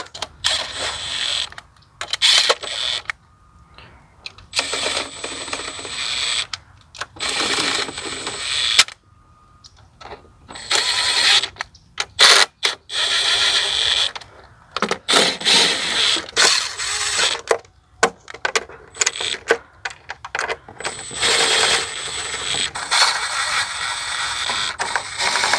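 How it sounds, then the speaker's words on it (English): Valve cover screws going back into a BMW N20/N26 engine, a run of short ratcheting clicks and light metallic mechanism sounds in bursts separated by brief pauses, close and fairly loud, with no talking. "So now I will start to put back all the screws."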